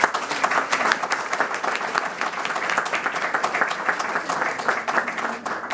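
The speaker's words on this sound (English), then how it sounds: "And I think we should celebrate that with applause." An audience at a graduation dinner applauding steadily, dense overlapping claps from a room full of people holding at an even, fairly loud level for several seconds.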